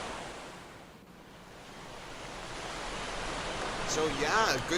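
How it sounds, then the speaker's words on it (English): A nearby waterfall gives a continuous broad rushing roar that swells slightly toward the end, where a voice starts talking over it. "Great waterfall room right by a waterfall, which is why it's called a waterfall room."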